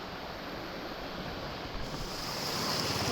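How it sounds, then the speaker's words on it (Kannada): A steady, broad rush of monsoon rainwater flowing near Karkala fills the scene, constant and fairly loud, swelling slightly toward the end with no voices. "ನೀರು ನೋಡಿ ಹರಿತಾ ಇದೆ ಈಗ"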